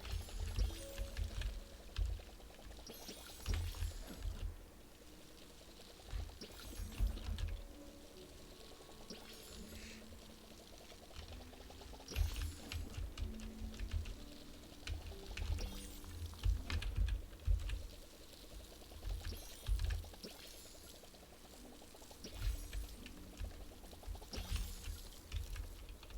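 Water pours onto plants in a video game, with repeated splashing pours throughout alongside steady clicking and tapping, close and moderately loud with no talking.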